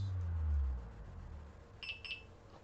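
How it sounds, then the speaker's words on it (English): Two short high-pitched electronic beeps from a Delkim Txi-D fishing bite alarm sound in quick succession, faint against a low background rumble. "turn the alarm on. 2 beeps."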